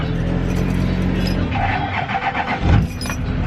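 A 6.6 diesel engine cranking on a cold start, a steady close mechanical churn that shifts into an uneven rumble near the end, with no talking.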